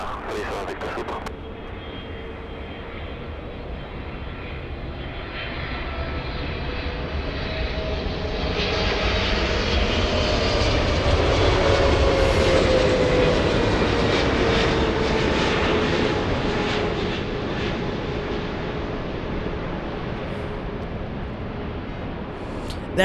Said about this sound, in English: You can hear the engine spooling up.